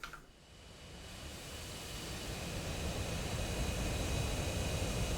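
B-1 bombers taxiing on an airfield in the DCS World flight simulator, a steady broad jet engine roar that swells gradually and holds at a constant drone, with no talk.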